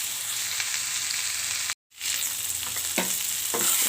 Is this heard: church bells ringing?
no